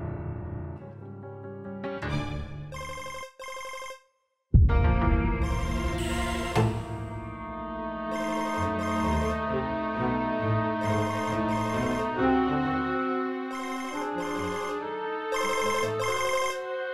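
A mobile phone ringtone plays a repeating electronic melody for about seventeen seconds, loud and close, with a brief dropout near the start and no talking.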